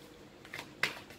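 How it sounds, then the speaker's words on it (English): A few quick hand shuffles of an oracle card deck, two soft riffling bursts with the second louder and sharper, close up in a quiet room. "I just like to do a couple of shuffles on camera"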